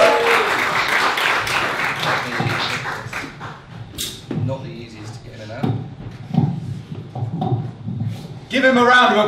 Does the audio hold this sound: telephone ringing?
no